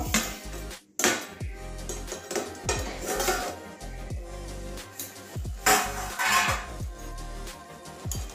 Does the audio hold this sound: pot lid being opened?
yes